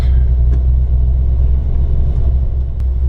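A 1950 Ford Custom Deluxe with a 302 four-barrel V8 idles close by, a loud, steady low rumble with an even, throaty pulse and no revving.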